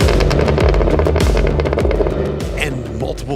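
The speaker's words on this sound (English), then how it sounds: "multiple gunshots are exactly what the Cadillac Escalade V's exhaust sounds like" A Cadillac Escalade V's exhaust crackling and popping in rapid gunshot-like bursts over a loud engine rumble, close and harsh, with a voice talking over it.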